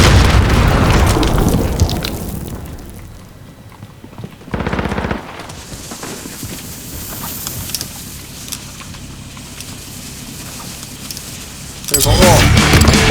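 A bomb is planted and detonates in a video game: a loud blast early, then a short burst of impact noise midway and another heavy explosion near the end, with quieter stretches between.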